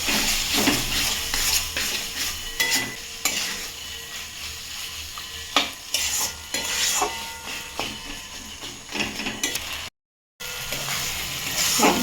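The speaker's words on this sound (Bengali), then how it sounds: "এবার ডালগুলোকে দিয়ে দেবো ভালো করে ডালের সাথে মশলাটাকে মিশিয়ে নেবো" Lentils for tarka dal are stirred into spices frying in oil, with loud continuous sizzling and repeated scraping clatter of a spoon against the pot, close up, with one brief gap near the end.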